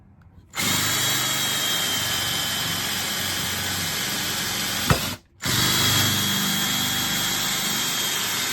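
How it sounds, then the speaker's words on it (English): A power drill whines steadily for several seconds drilling holes in wood for a broken chair leg, stops briefly with a small click, then starts up again and keeps running. "now we have to know where to drill the holes to attach the leg"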